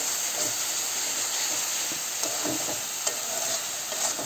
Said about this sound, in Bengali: তো ঝালের গুঁড়োটা দিয়ে দিয়েছি, দিয়ে একটু নাড়াচাড়া করছি।